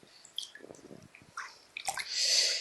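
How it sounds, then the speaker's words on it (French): A foot being rinsed in a basin of lavender water, with soft splashes and drips nearby that build into a fuller swish of water at the end, with no talking. "On vient bien rincer tout le pied."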